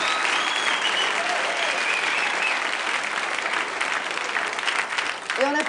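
Steady, sustained clapping from a studio audience at a live French TV broadcast, continuous and fairly full throughout, with faint voices mixed in and a brief dip near the end.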